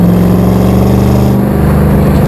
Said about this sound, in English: And that sound from that exhaust, it's just so sweet too.